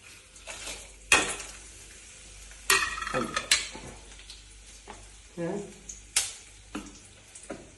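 Dried red chillies, garlic cloves and a small piece of tamarind tempering in hot oil in a pan, with a soft sizzle broken by several sharp clinks and scrapes of stirring and a brief voice in between.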